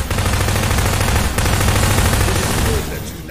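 Video game gunfire cuts down bugs in a dense, continuous burst of rapid shots, loud and close, easing off slightly near the end.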